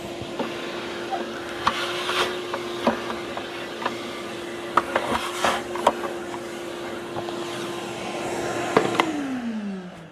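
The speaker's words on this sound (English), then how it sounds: "we're going to want to go ahead and vacuum up our fiberglass there" A vacuum cleaner hums steadily while bits of fiberglass rattle and click up the nozzle in scattered bursts; the motor pitch drops near the end.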